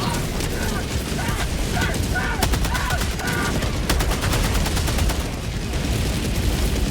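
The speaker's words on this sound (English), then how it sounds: "Firing orbital barrage" Orbital barrage explosions pound the battlefield in Helldivers 2 during a bot mission, a dense, continuous roar of rapid blasts and gunfire-like cracks with game voices and noise woven through.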